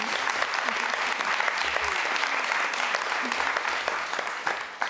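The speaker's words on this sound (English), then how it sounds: "Round of applause, please" Steady, full audience applause after a documentary screening, a dense wash of clapping hands with a few louder individual claps and faint voices underneath.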